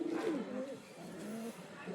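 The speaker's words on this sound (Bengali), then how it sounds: "তো এই হচ্ছে পায়রা।" Close, fairly loud cooing from Kalshira, Fulsira and golden pigeons, a few soft throaty coos rolling one into the next over about two seconds, with no voices.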